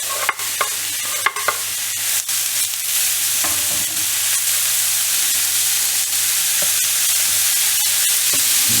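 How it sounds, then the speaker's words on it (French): Bacon lardons and sliced onions frying in a very hot pan, a loud continuous sizzle with a few scraping stirs and clicks near the start, no voices. "Là, ma poêle est bien chaude. Je vais y mettre mes lardons, mes oignons."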